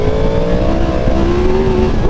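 A Yamaha MT-10 motorcycle engine accelerates loudly and close by, its pitch climbing steadily through the throttle opening with a dip and a second rising pull, with no talk over it.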